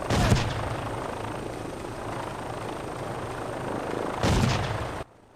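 An attack helicopter in the video game Made Man keeps up a dense, loud rotor roar with bursts of gunfire near the start and end, then cuts off abruptly.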